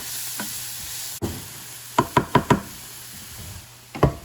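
Cooked soup ingredients are stirred and scraped out of a pan over a low sizzle, with a quick run of four sharp knocks from a utensil against the pan and a couple more at the end.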